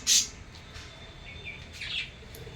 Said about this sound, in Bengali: পাখিরা উঠে গেছে সব।